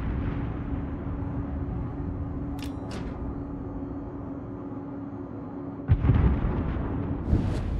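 A World of Warships battleship, the Vermont, fires its guns as deep booming blasts over a constant low engine rumble, with a heavy salvo near the end and a softer boom shortly after.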